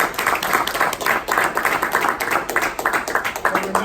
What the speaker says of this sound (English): give yourself a round of applause for being here Saturday morning.